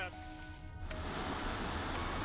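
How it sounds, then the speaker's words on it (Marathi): A constant rushing of water spills and flows over steps cut into the rock face of Bhaskargad fort, a broad steady wash with a brief shift near the start. "भास्करगडाच्या कातळात खोदलेल्या पायऱ्या आणि त्यावरून वाहणारं पाण्याचं हे एक नयनरम्य दृश्य"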